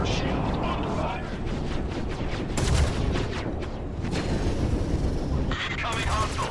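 Sustained gunfire from a Star Citizen combat scene, dense and loud throughout with bursts of sharper shots, overlaid by game voice alerts and speech.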